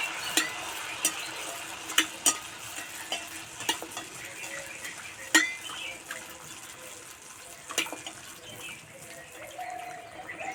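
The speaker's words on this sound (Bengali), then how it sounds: "এইভাবে আস্তে আস্তে তেলে ছেড়ে দেব" Mung dal malpua batter frying in a pan of hot oil gives a soft, continuous sizzle. Scattered clinks of a ladle and light spattering break through at a moderate, fairly quiet level.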